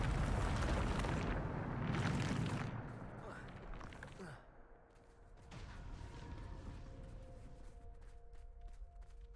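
The Bombarda explosion spell goes off in the Hogwarts video game, a loud booming blast with rumbling debris that fades to lingering magical hum and ringing tones.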